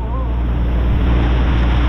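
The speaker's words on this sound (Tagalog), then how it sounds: "Wow, lalaki ng alon." Big sea waves heard from aboard a boat, a loud continuous rushing wash mixed with wind buffeting the microphone and a low engine rumble.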